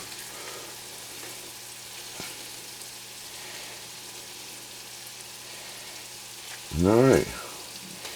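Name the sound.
scallops cooking in a pan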